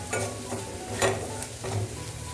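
Onion masala with half a spoon of garam masala powder being sautéed in a pan for restaurant-style chana masala, giving a soft steady sizzle with a few louder scraping stirs of a spoon, close and alone.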